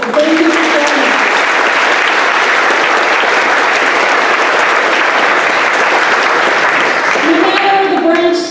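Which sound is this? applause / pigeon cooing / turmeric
applause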